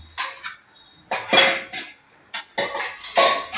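A metal lid goes onto a pot of brinjal curry, producing several close, loud clanks and scrapes of metal on metal in short bursts, with brief quiet gaps between them.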